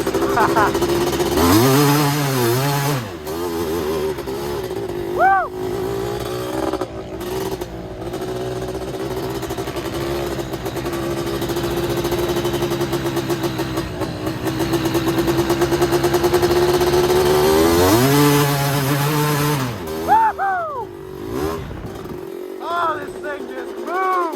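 A 250R dirt motorcycle on flat track tires rips across large sand dunes, its engine loud and close, revving up and down in repeated sweeping pitch rises and falls, with a steadier droning stretch in the middle.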